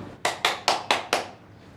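Five sharp, evenly spaced claps ring out in quick succession and then stop, close and distinct with nothing else underneath, a short burst of approving applause at a small gathering of snack vendors.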